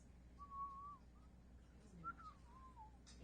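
Two soft, faint whistled notes, a long steady tone and then a rising-falling one, over low background rumble.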